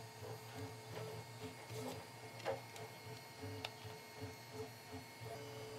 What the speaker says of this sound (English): You can hear in the background my printer's running.